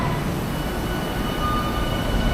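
An express train on the Tokyo Toyoko line rushes past a station platform, a steady, loud rumble of wheels and cars filling the whole moment with no voices over it.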